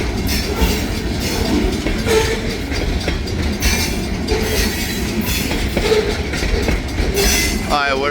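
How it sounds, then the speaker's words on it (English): A short freight train pulled by two engines rumbles past close by, a continuous heavy roar of wheels with rhythmic clacking and faint squeals, steady throughout. "Two engines in a pretty short train."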